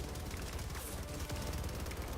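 Quasar cannon fire in the Star Wars video game Kotor 2, a dense, rapid burst of energy shots rattling out continuously over a short stretch, fairly quiet in the game mix.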